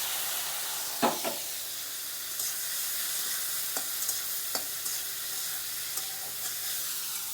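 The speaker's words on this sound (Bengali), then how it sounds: "চিংড়ি মাছটাকে একটু ভেজে নিই" Prawns fry in mustard oil with an even, hissing sizzle, dotted with a few sharp utensil clicks and taps.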